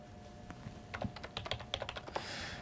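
Quiet typing on a computer keyboard, a run of irregular light key clicks at close range with no talking.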